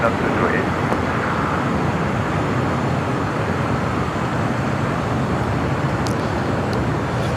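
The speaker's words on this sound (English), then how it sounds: "JetBlue flight rolling down 25 right." JetBlue airliner rolling down runway 25 right at LAX, a dense, steady roar of jet engine and rumbling noise from start to finish, with faint clicks near the end.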